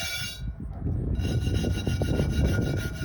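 A stiff brush scrubs rust from a cast iron pan in quick, rhythmic rasping strokes, close up and continuous, with no talking.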